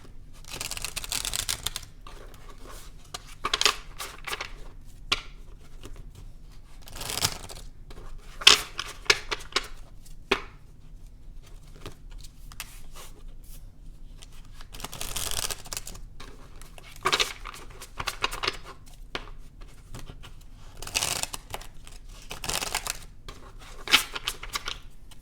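Tarot cards are shuffled in irregular bursts of crisp riffling and flicking, close and quiet, separated by silent gaps over a long stretch.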